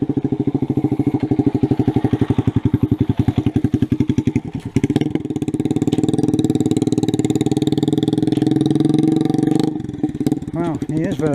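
A motorbike rides through a rural property on a shortcut track, its engine a loud, close, fluttering putter that holds steady, dips, then swells again as it passes near.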